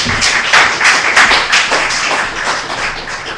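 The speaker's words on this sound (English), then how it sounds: "I haven't even started speaking yet and I'm getting applause" Audience applause breaking out at a live-streamed event just as a new speaker is handed the microphone, a dense, steady wash of many hands clapping, fairly loud and close, with no talking over it.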